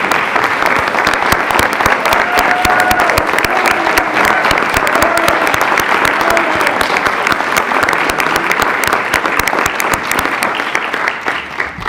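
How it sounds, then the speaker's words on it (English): Sustained applause fills Chicago's city council chambers for a retired former alderman, dense steady clapping from many hands lasting throughout at a loud, even level with a faint crowd murmur beneath. "Please give him a round of applause as he's in the chambers"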